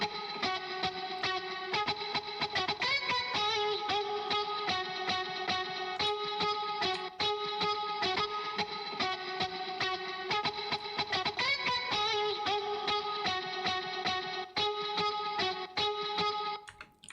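A guitar sample chopped into a new rearranged pattern for a music release plays as a dense, distorted loop with chorus-like effects and a steady rhythmic pulse, loud and continuous without any talking.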